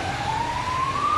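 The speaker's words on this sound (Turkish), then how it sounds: "Bu sesleri duyuyoruz, ambulans seslerini." An ambulance siren wails steadily in Güllük neighbourhood, Sakarya, Turkey, its tone rising slowly over a constant low traffic rumble, fairly close and loud throughout.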